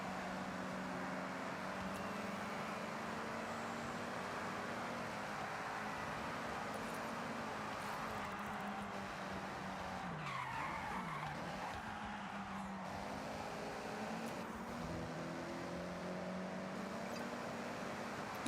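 Race cars in GTA Online driving fast with engine drone and skidding tires, a sustained squeal and slide near the middle, steady roar without talk.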